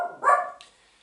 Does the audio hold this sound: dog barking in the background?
yes